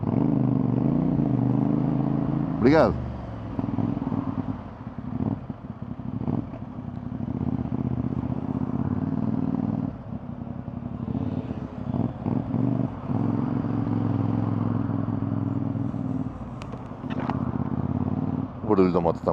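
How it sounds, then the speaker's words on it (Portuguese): A CFMOTO 450NK motorcycle engine droning steadily while riding, a continuous mid-range hum with occasional revs and wind noise, with someone talking over it briefly. "O barulho da moto está muito fixe."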